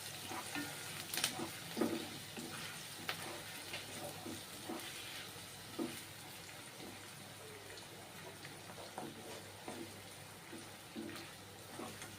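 Onions frying in oil in a pan, cooked until golden brown, give a steady low sizzle with occasional stirring clicks and scrapes, moderately close and fairly quiet.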